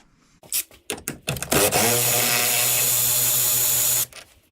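A powered driver with a T30 Torx bit backs a screw out of a Fusion headlamp: a few clicks and handling knocks, then a loud, steady whirring spin lasting a couple of seconds before stopping abruptly.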